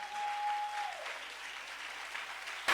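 A church congregation applauds. The clapping is brief and fairly soft, a steady wash of hands with a faint tone fading out at the start.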